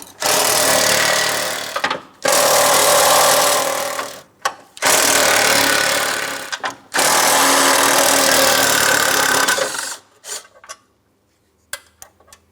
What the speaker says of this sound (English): Let's remove all four of the bolts.